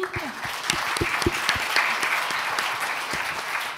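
An audience at a round-table event on women in defence claps for Marie, a crisp, steady patter of many hands with sharp individual claps standing out near the front.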